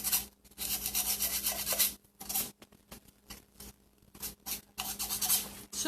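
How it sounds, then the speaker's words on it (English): Fine sandpaper rubs across ceramic bisque in short bursts of dry, close rasping, with brief pauses between strokes. "It's just a fine sandpaper, and it sands real smooth."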